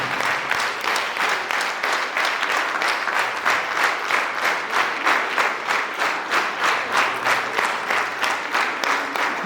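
Warm, steady applause from a concert audience honouring a solo performance, dense rhythmic clapping sustained and loud for the whole stretch with no talk over it.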